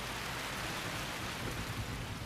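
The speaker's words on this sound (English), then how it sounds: "It has been raining heavily in Kaziranga for the last 3 months." Heavy monsoon rain in Kaziranga, India, a dense, steady hiss of downpour filling the air with no breaks, constant and fairly loud.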